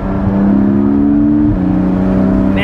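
A Porsche 718 Spyder with sport exhaust idles and revs, a loud, close steady engine drone that shifts pitch partway through.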